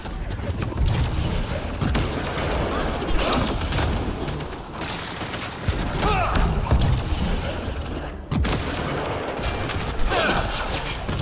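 Heavy explosions and sustained gunfire thunder through a Mass Effect: Andromeda firefight, with sharp bursts breaking out at intervals amid constant combat noise while voices shout over it.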